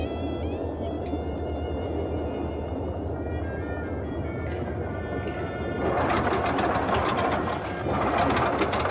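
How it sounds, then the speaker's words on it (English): Twin radial engines of a Boeing 247 in a flight simulator winding down after the mixtures go to idle cutoff, a steady droning rumble that shifts and swells into a rougher, noisier tone near the end. "That's the first ever time I've shut the engines down on purpose"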